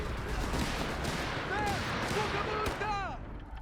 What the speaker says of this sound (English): Mighty wipe here from Nubosarus Crusader anti-aircraft tank. They're unloading those Bofors rounds into the retreating troops' backs.